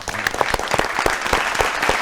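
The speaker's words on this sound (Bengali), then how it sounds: "তাই একবার জোরে হাততালি হয়ে যাক ওনার জন্য।" Audience applause on a quiz show, a steady burst of many hands clapping close and loud throughout, with no voices over it.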